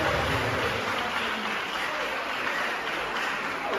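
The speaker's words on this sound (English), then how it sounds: "Let's welcome her with a big applause." Applause from an audience at an inter-school debate, a dense, even wash of clapping that carries on steadily and sounds somewhat distant and soft.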